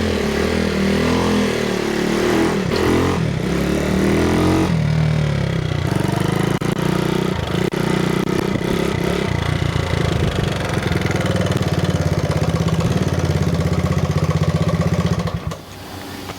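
An 80cc dirt bike engine, among bikes like a Honda XR75, Suzuki RM80X, Yamaha YZ80J and Honda CR80R, runs loud and close in a steady two-stroke idle with slight revving fluctuations before cutting down near the end.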